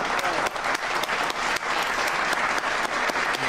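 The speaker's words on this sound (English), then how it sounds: "We can clap for that." Audience applause at a comedy show, a dense, steady burst of many hands clapping close and loud for the full few seconds with no one talking over it.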